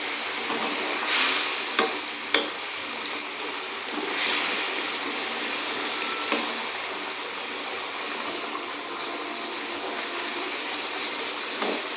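Boiled potatoes and spices being stirred and sautéed in a pan give a steady close sizzle, with scraping strokes from the stirring and a few sharp clicks along the way.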